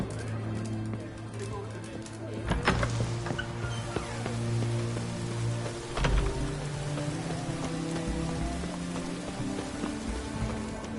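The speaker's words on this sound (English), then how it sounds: "It's raining, of course it's going to be damp." Steady rain from The Witcher 3: Wild Hunt falling over an outdoor game scene, continuous and fairly loud, with a couple of sharper impacts and faint ambient tones beneath.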